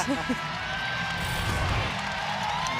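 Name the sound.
crowd applauding as a basketball player leaves the court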